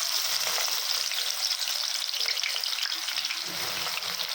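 Chopped onion sizzles steadily in hot oil in a pan, a loud continuous frying hiss that keeps going without a break, and no voices are heard over it.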